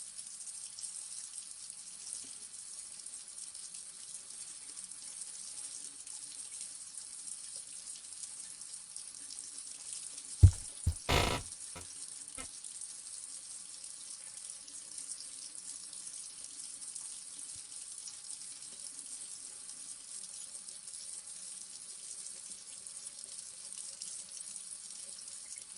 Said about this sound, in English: I like this little water sound.